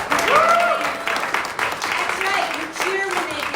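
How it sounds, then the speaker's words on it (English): Audience at a county Republican debate breaks into cheering and applause after a candidate's answer, a steady crowd roar with voices raised over it throughout. "you cheer when they get good answers"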